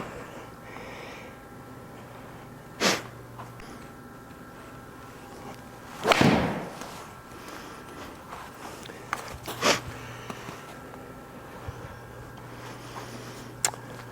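A golf ball struck indoors on a simulator with a 50-degree PXG gap wedge, one sharp, loud impact crack in the middle, with a few quieter clicks and shuffling movements around it in a quiet room.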